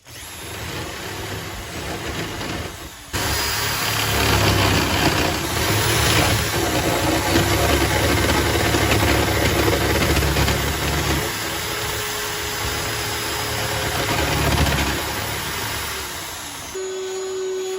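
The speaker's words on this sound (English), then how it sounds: "you just attach a drill. And I prefer a corded drill." A corded drill running in a Mophorn lock mortising jig cuts a mortise, giving a loud, steady motor whine that starts abruptly after a few seconds and runs without a break before cutting off near the end.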